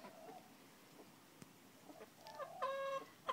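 Hens cluck near a chicken coop in the morning as they wait to be fed, a few soft calls early on building to louder, clearer clucking toward the end over faint outdoor background.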